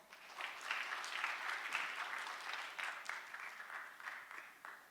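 An audience at the AI SEOUL 2024 conference applauds to welcome Exem CEO Ko Pyeong-seok to the stage. The clapping is steady and dense, swelling and easing for about five seconds with no voices over it.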